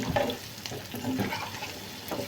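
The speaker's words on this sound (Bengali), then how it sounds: "রসুন পেঁয়াজ ভাজতে একটু তেল লাগে" Garlic and onion frying in a generous amount of oil, cooked until red and crisp, give a faint, steady sizzle with soft stirring scrapes close by.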